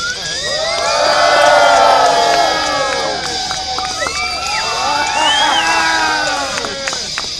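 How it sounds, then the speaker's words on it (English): A sideshow crowd at a Fright Fest event cheers, whoops and shouts, swelling and easing in waves with loud high voices and children's yells throughout. "I want you guys to make some noise, get louder and louder"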